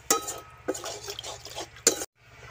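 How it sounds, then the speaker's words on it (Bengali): A wok is rinsed with water that is then poured into cooked dal, giving scattered metallic clinks and stirring scrapes with a few sharp knocks, near and moderately quiet, with no one talking. "কড়াটাকে একটু ধুয়ে নিয়ে জলটা ফেলবো না, ডালের মধ্যে দিয়ে দেবো।"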